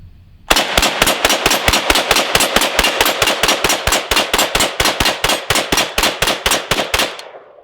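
A DPMS AK rifle empties a full magazine in a loud, close, rapid string of about thirty evenly spaced shots, then stops abruptly.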